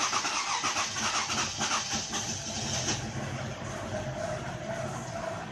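A Toyota Camry's 1MZ-FE V6, after a broken timing belt, runs with a slight miss: a loud, close, steady engine roar that holds throughout with uneven, rough pulsing.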